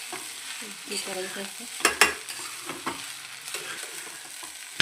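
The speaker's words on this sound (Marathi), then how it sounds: "5 मिनिटात चांगलं 5 ते 10 मिनिटं आपण असं चांगलं मिक्स करून घ्यायचं" Sabudana khichdi is stirred and fried in a pan, a soft scraping and sizzling with a few sharper clinks of the spoon against the pan, while someone speaks briefly over it.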